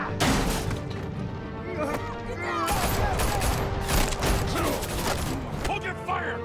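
Batman Telltale video game: bursts of gunfire and crashing impacts come in dense volleys amid clanking mechanisms, with voices mixed in.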